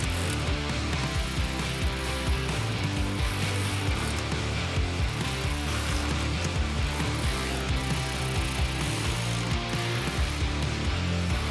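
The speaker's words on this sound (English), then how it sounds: "fasten everything down" Ratchet wrench clicking steadily as it tightens the running board fasteners on a 2024-2026 Chevy Silverado, a loud, continuous, close-up pawl rattle with no voices.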